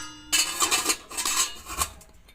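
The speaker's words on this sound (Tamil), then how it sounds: "அடுத்து வந்து இட்லி கொத்து எடுத்து வச்சிடலாம்" A metal idli plate stand is set down into a cooker pot, a short run of close metallic clanks and scrapes over about two seconds, with no voices.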